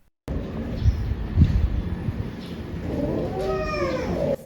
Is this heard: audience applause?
no